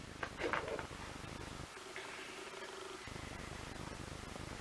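A house cat purring close to the microphone, a soft, faint continuous rumble with a few brief rustles and no talking.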